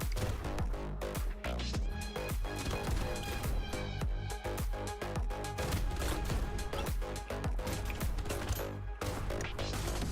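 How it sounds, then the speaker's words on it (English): Shotgun fire in a video game, a dense stream of sharp booming blasts mixed with other battle noise, loud and continuous throughout. "Shotgun kind of sounds like a cannon."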